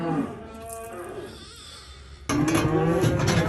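Calves moo and bawl up close, several overlapping calls, then a sudden louder burst of noisy bellowing mixed with rattling in the last second.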